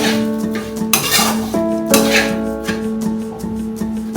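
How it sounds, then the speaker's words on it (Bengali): Semolina and rice flour roasting in a pan are stirred with a utensil that scrapes and clinks against the metal in repeated strokes, loud and close, over a soft sizzle with no talk. "সুজিটাকে একটু হালকা করে একসঙ্গে ভেজে নেব"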